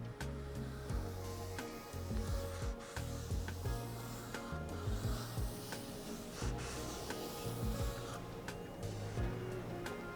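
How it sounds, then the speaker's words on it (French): A hydrofoil wing is hand sanded with finer-grit paper after a 240-grit pass, giving a steady close rasping rub that runs throughout under a low background of tonal sound. "c'est simplement pour un peu affiner et dégrossir les traces de ponçage du 240"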